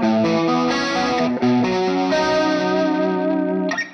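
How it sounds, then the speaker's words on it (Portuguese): Distorted electric guitar played through a Collateral FX Demoiselle chorus pedal rings out in arpeggiated chords, the sustained notes shimmering and swirling with a wide chorus spread, with a brief dip and pick attack near the end. "O coro tira o imediatismo da distorção, a agressividade e traz um espalhamento do som"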